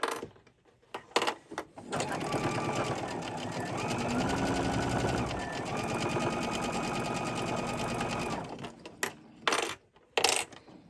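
A sewing machine runs steadily for about six seconds as it stitches through felt for a heart-shaped craft project, loud and close. It starts and stops with short bursts at each end.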